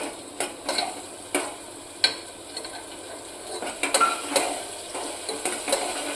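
A spoon scrapes and stirs spice masala through oil in a pan for a sprouted chana, moong and moth gravy, giving a series of sharp scraping strokes over a faint low sizzle, close by with no voices.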